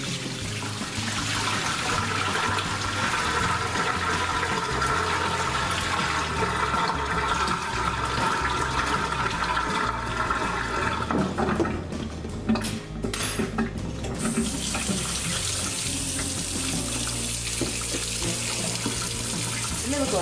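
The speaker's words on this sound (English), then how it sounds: "so now I'm going to take them over to the sink and do a cold water bath" Water running steadily into a kitchen sink for a cold water bath of smoked Polska kielbasa sausages, with occasional clinks of pots and utensils, continuous and fairly loud.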